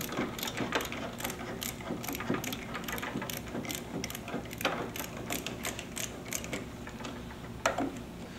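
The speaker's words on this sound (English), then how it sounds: "using a 5/16 nut driver or socket or even a screwdriver. Just tighten that down on the entry panel." Nut driver tightening a hose clamp on a boot at an entry panel, giving a steady run of small, close ratcheting clicks and metallic ticks at a quick, fairly regular pace.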